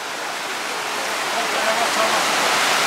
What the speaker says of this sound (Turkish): duyduğunuz ses yağmur sesidir